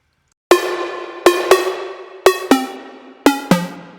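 A plucked synth melody runs through a separate fully wet reverb chain: seven bright notes in an uneven rhythm, each followed by a long, washy reverb tail that overlaps the next note.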